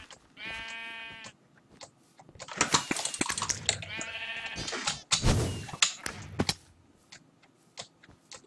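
Two bleats from a Minecraft sheep ring out clearly, each a wavering harmonic cry lasting about a second, with clicks and other game noises around them and no talking.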